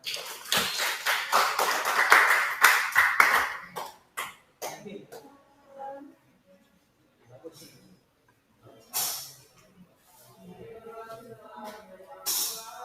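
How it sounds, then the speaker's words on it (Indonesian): Students in a classroom clap briefly for a classmate's answer, a short burst of applause that trails off into a few scattered claps, followed by quiet room noise and faint voices. "Berikan tepuk tangan untuk Anam"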